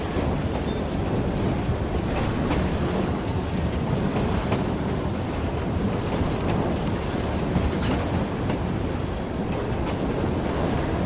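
A train rolls along its rails inside the Assassin's Creed Syndicate video game: a steady, dense rumble with continuous rattling and occasional higher squeals, loud and unbroken from start to finish, with no voices over it.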